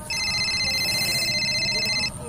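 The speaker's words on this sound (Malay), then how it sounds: "Tu telefon ah." A telephone rings in a room, a steady electronic trilling ringtone lasting about two seconds, fairly loud and close with no talk over it.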